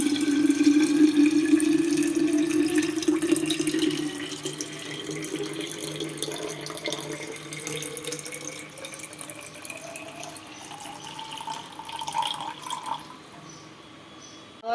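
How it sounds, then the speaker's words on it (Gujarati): Water for a weight-loss drink pours steadily into a bottle, the gurgling pitch rising as the bottle fills, close and alone before the stream stops near the end. "હવે આપણે એક બોટલમાં પણ ભરી લેશું."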